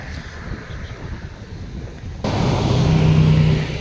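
A Kubota L4708SP 47 hp four-cylinder tractor engine, its exhaust pipe not yet fitted, runs with a steady low rumble that steps up suddenly into a louder, denser roar partway through, with faint wind-like noise throughout.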